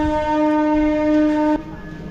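A long passenger train on the Davangere to Bengaluru route sounds a loud, sustained horn that cuts off sharply after about a second and a half, leaving a lower rumble.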